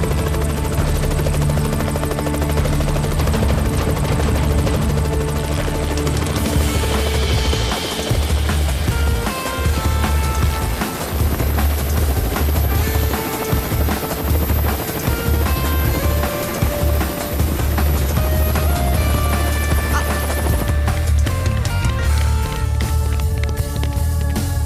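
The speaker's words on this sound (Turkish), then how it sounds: "Helikopter alçalıyor." A helicopter roars close and loud throughout, its steady rotor thump and engine whine filling the scene with no pause as it descends.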